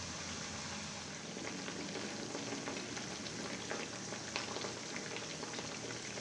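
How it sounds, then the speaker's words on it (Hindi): Small sooji sweets fry in hot oil on a medium flame, giving a steady, even sizzle and bubbling hiss that stays constant throughout with no talking. "थोड़ी थोड़ी डाल के फ्राई करें"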